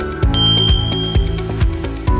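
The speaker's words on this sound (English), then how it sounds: "we want to attach the little bell." A small bell fitted to an Eagle One V3 scooter is rung, giving a rapid series of bright, metallic dings about every third of a second, close and loud with a ringing tone between strikes.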